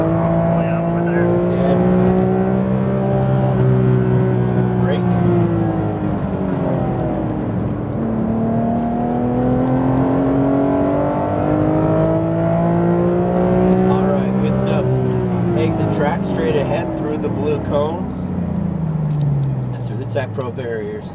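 Porsche GT3 RS engine under throttle on a racetrack, a loud continuous engine note rising and falling with shifts, heard close from inside the car with an instructor talking over it.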